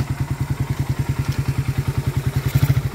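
A Suzuki Raider motorcycle engine runs steadily while its Keihin 28mm carburetor is tuned, giving a close, even, rapid thumping idle pulse throughout, with no talking.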